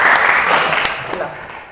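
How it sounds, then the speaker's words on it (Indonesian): A burst of clapping from a group, dense and fairly close, tapering off over a couple of seconds. "Ya, tepuk tangan dulu."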